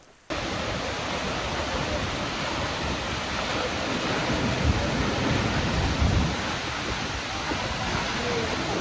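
Multnomah Falls, a waterfall in the Columbia River Gorge, pours out a continuous full-bodied rush. The noise stays steady throughout, swells slightly midway and carries a faint wind-like texture, with no clear speech.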